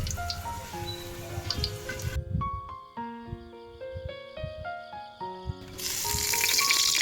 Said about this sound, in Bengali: পেঁয়াজটা আমি বেরেস্তা করে নেব, মানে একদম লাল লাল করে ব্রাউন ব্রাউন করে ভেজে নেব।